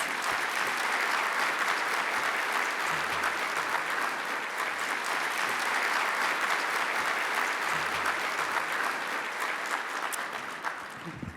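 A crowd applauds warmly as Tempe Mayor Corey Woods is welcomed at the State of the City event, with steady, dense clapping for about ten seconds before it begins to fade.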